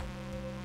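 Flies buzz in the mines of the video game Stardew Valley, a steady droning hum that holds evenly through the short moment with no speech.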